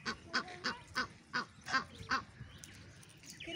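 Ducks quack and honk in a steady run of about seven loud, nasal calls close by, then fade into quieter background noise.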